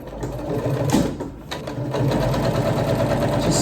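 A sewing machine stitches straight across a seam, a rapid steady mechanical whirring with a brief pause before running on, close and loud, with no talking.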